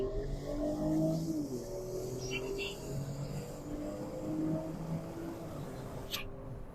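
A Kia Stinger GT2 fitted with a LAP3 TCU, in sport mode, accelerating hard: a steady loud engine drone with rising tones, heard from inside the car, while a person speaks quietly over it.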